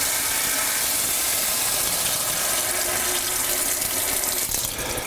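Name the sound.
hot water poured into a roux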